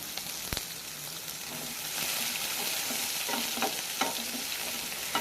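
Chopped onions are stirred in hot mustard oil in a pan, a steady close sizzle broken by a few scraping strokes of a spoon against the pan, with no one talking.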